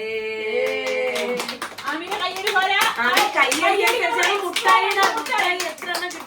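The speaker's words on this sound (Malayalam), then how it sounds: "വലിയ കൈയടി" Loud, steady hand clapping from several people, children among them, keeps going for several seconds at close range, mixed with excited children's voices and chatter.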